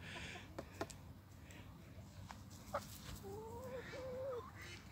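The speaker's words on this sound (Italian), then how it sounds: "Ormai la gallina ha imparato che qui c'è il mangiare, è montata sul tavolino." A hen perched on a small table at an automatic poultry feeder gives a few soft clucks and short calls, then a wavering trill near the end, fairly faint against a quiet outdoor background.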